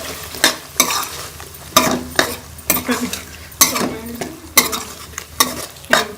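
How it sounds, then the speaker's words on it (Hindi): Potatoes fry in masala for an aloo arvi curry, a spoon scraping and stirring the pan in sharp, rhythmic bursts about every half second over a low sizzle. "आलूओं को हम मसाले में अच्छी तरह से भून लेंगे।"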